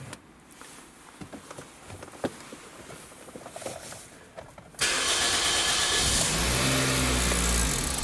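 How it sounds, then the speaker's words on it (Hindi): A car engine cranks and catches at once after a few seconds of quiet rustling and handling noises, then settles into a loud, steady idle that fills the rest of the clip, with no talk over it. "गाड़ी को अभी स्टार्ट करूँगा।"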